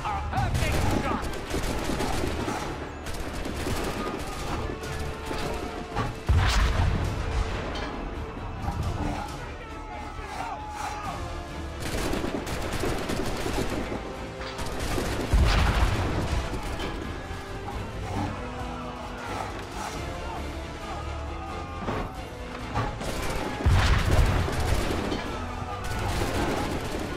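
Gunfire in Assassin's Creed 3 on Xbox 360, repeated shots and bursts mixed into dense game sound and music, with a voice talking over it at times.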